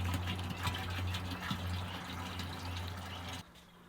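Water runs steadily into a 2.5-gallon jug for a granular soil-conditioner fertilizer mix outdoors, a close, continuous filling rush with a slight gurgle that cuts off abruptly near the end.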